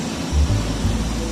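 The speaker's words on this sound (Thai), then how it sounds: "เสียงเครื่องจักรทำงานค่ะ" Machinery runs steadily near a factory in a small town in winter, a continuous low rumbling drone with a slight swell partway through, close and unbroken.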